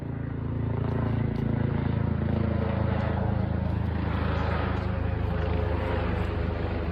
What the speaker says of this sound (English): the chopper was searching for something, flying low with a searchlight scanning the forest